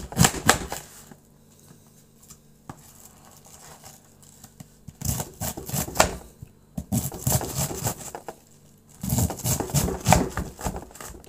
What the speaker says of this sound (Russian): я вот здесь его нашинкую помельче.